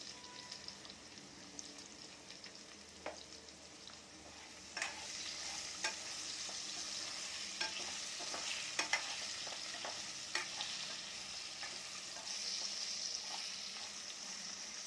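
Drumsticks and potatoes sauté in a pan with a soft, steady sizzle and a spatula scraping and tapping now and then, quiet and close.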